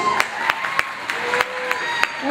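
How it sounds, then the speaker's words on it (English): Audience at a children's Latin American dance competition applauds, a short burst of scattered clapping under a voice on the public address. "Give them a round of applause."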